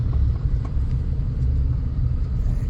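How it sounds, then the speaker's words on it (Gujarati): A Tata Punch creeping slowly through heavy traffic, with a steady low engine and road rumble that holds at an even level throughout. "એકદમ ધીરે ધીરે ગાડી જઈ રહેલી છે."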